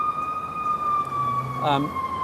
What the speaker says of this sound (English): We got an ambulance that might be coming up.